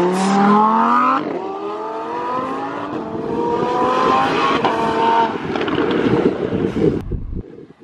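A stage 2 BMW 435i accelerates hard in a race against a Lamborghini Performante, its engine note climbing through gears with rising harmonics and heavy wind buffeting, loud and close, with a brief wheelspin-like surge before the sound cuts off.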